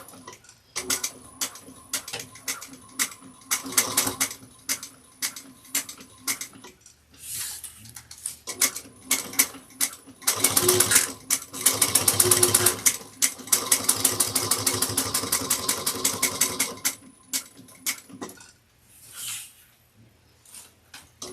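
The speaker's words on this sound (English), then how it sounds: "I'm going to top stitch at 1/8 of an inch all the way around" A sewing machine top stitches a bucket bag in quick bursts of rapid, close mechanical ticking, pausing briefly between runs of stitching, with no voice heard.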